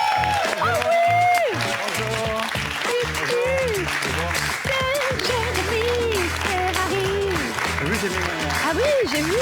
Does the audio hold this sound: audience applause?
yes